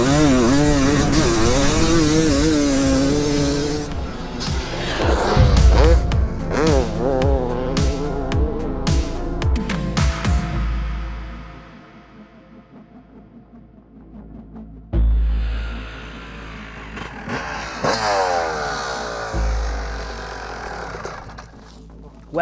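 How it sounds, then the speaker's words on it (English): A 1996 Yamaha YZ250 two-stroke race motorcycle with a steel frame screams past on a track, its loud, buzzy engine revving up and down through the corners. It fades briefly, then returns close and loud. "two corners left for Tom Grimshaw on board the 1996 YZ250 2E"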